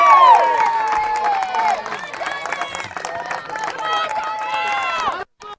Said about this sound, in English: Crowd on both sides getting into it here.